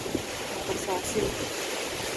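Strong typhoon wind rushes and buffets across a small farm in a broad, continuous roar with gusty swells. A voice speaks briefly over it.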